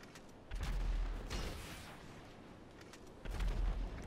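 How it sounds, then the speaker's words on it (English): Rockets fired from a rocket launcher in GTA 5: two heavy booming launches a few seconds apart, each with a low thump and a whooshing tail that fades before the next. "I'll waste all my rockets."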